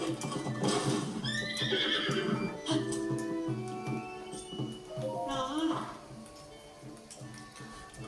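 In Zelda: Tears of the Kingdom, a horse whinnies loudly in drawn-out neighs over clip-clopping hooves and game music, with a person speaking briefly.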